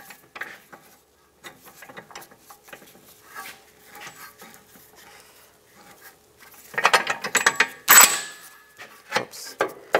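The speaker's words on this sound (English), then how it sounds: "Take your new nut and bolt, get that started." A new nut and bolt are threaded and tightened on the rear ABS wheel speed sensor mounting of a 2010-2016 Cadillac SRX, with close, irregular metallic clicks and ratcheting turns that grow louder and busier near the end.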